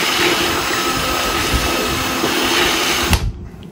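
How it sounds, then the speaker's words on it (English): A power drill whirs steadily at high speed while boring a hole for a homemade culling cone, a loud continuous motor whine with slight load changes that cuts off abruptly near the end, leaving near silence. "That's why I drill the first hole"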